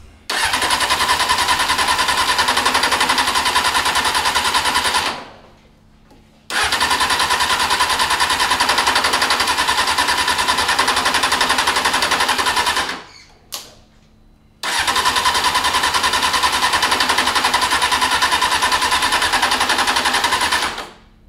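An old motorcycle engine started for the first time after long restoration work: three long bursts of loud, buzzing cranking and revving, each cutting off abruptly into brief silence before the next attempt.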